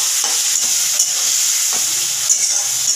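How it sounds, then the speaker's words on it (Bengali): A salted spice paste with a splash of water, for an amudi fish curry, fries in a pan with a loud, hissing sizzle and quick scraping strokes as it is stirred up close. "এই মশলাটা ভালোভাবে কষিয়ে নিতে হবে"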